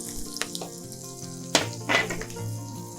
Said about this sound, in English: let the butter melt.